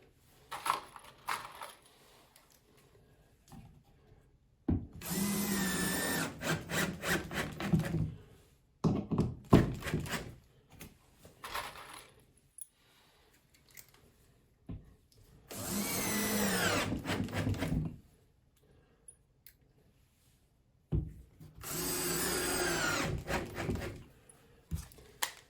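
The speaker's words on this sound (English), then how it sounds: "I'm going to fasten it in place with some drywall screws." A power drill drives drywall screws into drywall during a doorknob-damage repair, in about four separate whirring bursts of a couple of seconds each, close and fairly loud, with quiet handling noises between them.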